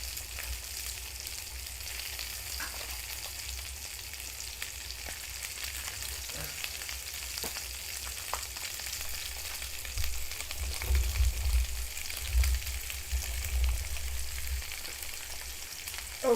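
Onions fry quietly in a pan at home, a soft, even sizzle under a low rumble, with a few faint clicks from stirring.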